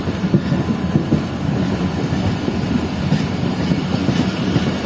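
Train with GMU-30 diesel locomotives at Bin Qasim railway station, a continuous rumbling rail noise with soft clickety-clack of carriages, moderately loud and steady, no talking.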